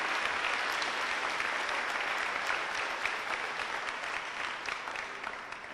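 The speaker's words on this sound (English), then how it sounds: "You can give those, you can clap them." Audience applause at a high school academic awards banquet, a sustained burst of many hands clapping in a hall, full and steady before gradually thinning.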